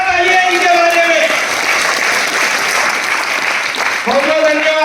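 Applause from a large audience at an RCM business seminar in Aurangabad, loud and steady throughout, with a speaking voice over the start and end.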